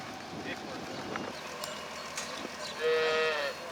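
Newborn dairy calves, less than a week old, moo at bottle-feeding time on a Wisconsin farm. A long drawn-out bellow stands out near the end over a low ambient murmur.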